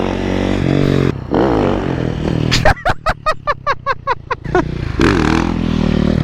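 A supermoto motorcycle revving hard during a wheelie in a thunderstorm, loud close engine roars broken by a rapid run of sharp throttle blips and pops before the revs rise again.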